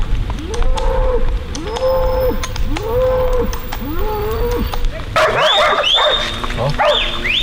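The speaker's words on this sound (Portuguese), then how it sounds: "Olha lá os cachorros querendo morder os cambistas." Several dogs at a roadside bark and howl in a steady repeating rhythm, moderately close, over constant background noise, with a shriller yelping call joining toward the end.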